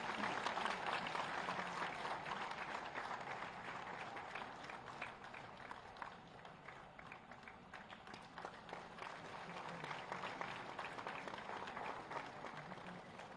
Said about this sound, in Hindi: एक बार सभी शिक्षकों के लिए तालियां